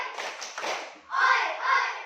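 Children in a classroom perform a rhythmic spirit clap, bursts of group clapping in two phrases with a short pause between, mixed with young voices, fairly close and lively.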